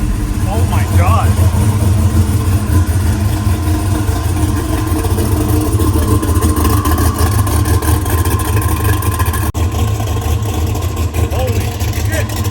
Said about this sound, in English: This is the loudest stock car I've ever heard